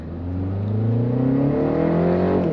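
Mini Countryman S ALL4 with a 2.0-litre turbocharged four-cylinder, all-wheel drive, accelerating hard on a New Zealand road; a steady, loud engine note climbs continuously in pitch over a few seconds, no talking.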